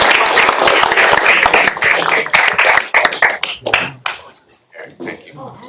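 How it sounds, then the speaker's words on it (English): Audience applause closing a talk at a Bitcoin summit at UCLA Anderson, brisk, fairly loud clapping from a room of people that breaks into sparse, separate claps and fades out by the end, with a few words spoken near it. "please give a round of applause"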